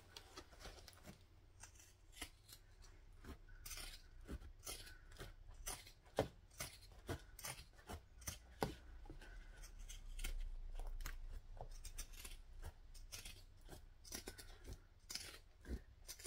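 Scissors snip repeatedly through fabric, trimming the seam allowance during a sewing project; close, crisp cuts in an irregular rhythm with short pauses, no talking.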